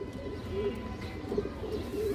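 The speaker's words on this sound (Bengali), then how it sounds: "দেখেন খাঁচার ভিতরেও কিন্তু একাই ডাকতেছে" A Muslodom pigeon inside its cage gives soft, low cooing calls, several short coos spaced irregularly over a quiet background.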